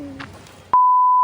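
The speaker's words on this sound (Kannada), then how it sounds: "ಎಡಿಟ್ ಮಾಡ್ತಾರೆ, ಬೀಪ್ ಹಾಕ್ತಾರೆ" Censor bleep added in editing to cover speech: a sharp, steady pure-tone beep cuts in abruptly after a moment of quiet background and holds loud and alone.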